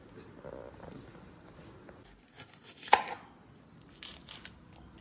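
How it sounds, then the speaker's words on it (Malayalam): Garlic and a small onion being finely chopped with a knife on a board, soft scattered cuts with one sharper chop midway and a few more light taps near the end, fairly quiet. "ഞാൻ കുറച്ച് വെളുത്തുള്ളിയും അതുപോലെ തന്നെ ചെറിയൊരു സവാള എടുത്തിട്ടുണ്ട് അത് നന്നാക്കി കുനുകുന അരിഞ്ഞു വെക്കാം"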